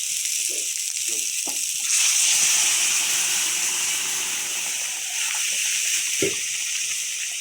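A loud, steady sizzle of jackfruit seeds hitting hot spice paste, with Kashmiri chili powder and salt, in a pan for salted hilsa curry, swelling briefly and then holding a continuous frying hiss, with a few clatters of stirring.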